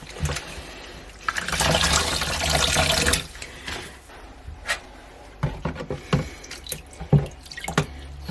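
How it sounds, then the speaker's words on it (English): Spinach leaves are swished and rinsed in a bowl of plenty of water for afang soup, giving a loud rush of sloshing at first, then scattered drips, splashes and splashy handling of the wet greens. "And you want to wash it with plenty water"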